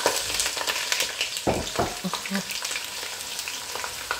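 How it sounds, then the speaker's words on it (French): Onions and garlic frying in a pan for a peanut sauce, a steady close sizzle with a few scraping stirs of a utensil partway through, no voices. "je commence par les oignons et l'ail"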